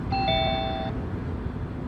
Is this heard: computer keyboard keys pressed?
no